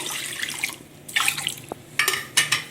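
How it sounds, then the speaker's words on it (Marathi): Water splashes into a mixer jar for a curd kadhi recipe in bursts: a running pour, a pause, then two more short gushes. The sound is close and there is no talking. "आणि या मिक्सरच्या भांड्यात थोडं पाणी घालून"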